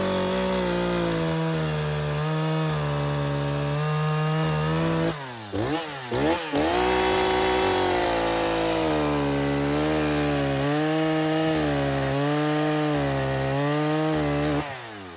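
Bargain chainsaw running rich and at modest revs while cutting firewood, a loud close engine drone with buzzing harmonics that briefly dips and rises as it bogs in the cut, then steadies again.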